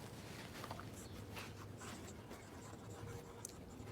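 Pen or pencil scratching across paper while notes are written during a lesson on the Earth's interior, a steady continuous scribble filling the whole stretch, fairly quiet and close, with no talk.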